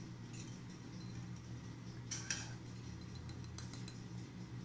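A spoon stirs and scrapes through cake batter with cornstarch in a bowl, giving soft continuous clinks and scraping with a couple of sharper knocks against the side, faint and unaccompanied by talk.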